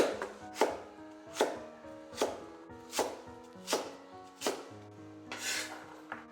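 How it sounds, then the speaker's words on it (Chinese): Knife dicing stacked thick slices of peeled lotus root on a board, eight evenly spaced crisp chops at a steady rhythm, each with a short scraping tail, close and quiet with no voices. "然后给它叠在一起，切成小丁。"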